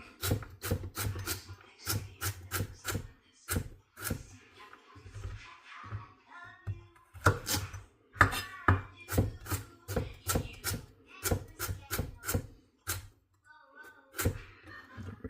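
Kitchen knife chopping vegetables on a wooden cutting board for turkey soup, a steady series of sharp, close thunks in quick uneven bursts with brief pauses, a voice talking lightly underneath.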